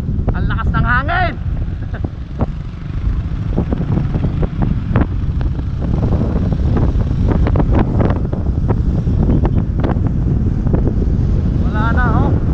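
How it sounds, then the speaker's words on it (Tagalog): Strong wind roaring and buffeting the microphone continuously, with voices talking and calling out over the steady rumble. "ang lakas ng hangin"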